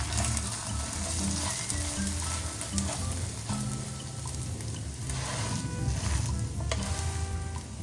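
Egg sizzles in a hot pan as an omelette for a club sandwich, a steady, close frying crackle with faint clinks and low kitchen hum underneath, no talking.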